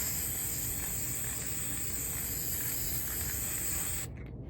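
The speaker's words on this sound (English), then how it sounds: "You can then spray the back of it." A can of UV-resistant clear matte acrylic coating sprays in one continuous, steady hiss lasting about four seconds before stopping, close and alone with no talking.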